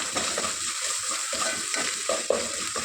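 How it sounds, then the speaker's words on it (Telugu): Ginger garlic paste frying in a pan with onions, a continuous hissing sizzle with soft stirring scrapes and a small clink near the end, close and steady, no talking. "ఈ అల్లం వెల్లుల్లి పేస్ట్ కూడా పచ్చివాసన పోయేంత వరకు వేయించుకోవాలి"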